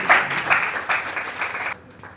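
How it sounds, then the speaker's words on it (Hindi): A seminar audience claps in a short, steady burst of many hands that stops abruptly near the end, leaving faint room noise. "तालियां बजा दीजिए,"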